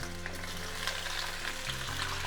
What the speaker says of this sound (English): They just go right into the oil.